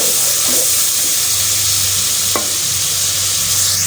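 Spice masala for a white chana pulao fries and is stirred in a pot, giving a loud, steady sizzle with scraping strokes and one sharp clink partway through.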